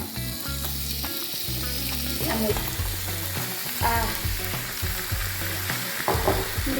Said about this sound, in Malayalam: ഇതിനകത്തേക്ക് നമ്മൾ കഴുകി വാരി വെച്ചേക്കുന്ന ചിക്കൻ അങ്ങോട്ട് ഇട്ട് കൊടുക്കാൻ പോവാണ്